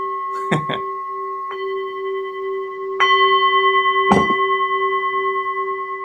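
A bell rings with sustained, steady tones, struck several times so the ringing layers and pulses, while short spoken bits cut in briefly.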